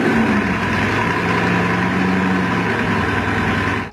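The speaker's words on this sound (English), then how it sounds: "When you fire it up, the engine rumbles, it's loud" Bugatti Chiron engine idling indoors, a steady deep rumble with a constant low drone that holds loud and even before cutting off abruptly at the end.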